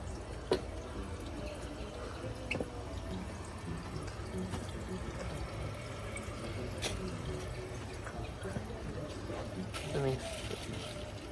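A 1985 Briggs Conserver toilet tank refills with a steady hiss and trickle of water, broken by occasional faint drips and clicks.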